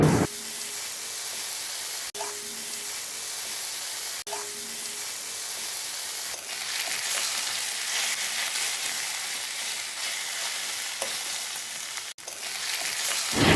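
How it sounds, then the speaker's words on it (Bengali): Continuous loud sizzling and crackling of catla fish roe frying with spices in a pan, with occasional spatula scrapes and a brief pause near the end. "কাতলা মাছের ডিমটা মশলার সাথে খুব ভালো করে ভাজা হয়ে গেছে"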